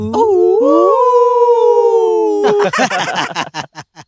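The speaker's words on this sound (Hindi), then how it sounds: "कुत्ते लोग उनको देखकर जोर जोर से भौंक रहे हैं" Dogs howl in a long, sustained, wavering chorus, then break into a burst of sharp, loud barks close by.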